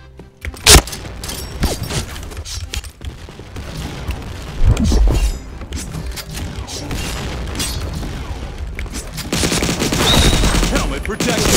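Gunfire in the shooter game Point Blank, with MP40 and Thompson submachine guns mentioned, crackles in rapid bursts and single booming shots, loud and close, continuing for several seconds while a voice talks faintly in the background.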